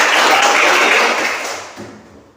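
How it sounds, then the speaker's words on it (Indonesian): A classroom of children applauds together, a dense burst of clapping that holds steady and then thins out and fades over about two seconds. "Tepuk tangan dulu."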